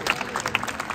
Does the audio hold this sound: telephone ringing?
no